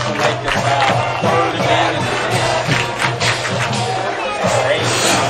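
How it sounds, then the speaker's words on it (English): Spectators at a high school varsity football game between Grandview Heights and Centerburg roar and shout in a sustained loud crowd reaction to a penalty, with voices and hubbub throughout. "the crowd reacts to the penalty"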